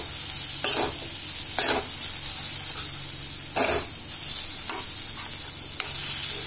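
Capsicum and onion sauté in a pan for a paneer capsicum gravy, a steady soft sizzle broken by four or five sharp scraping stirs, close and alone without talk.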